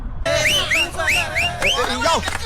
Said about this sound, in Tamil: விசில் அடிச்சு கை தட்டுறீங்க